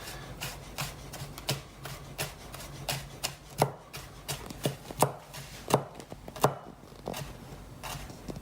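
Food being thinly sliced with a kitchen knife on a cutting board, a steady series of crisp, close knocks as the blade strikes the board, some strokes louder than others.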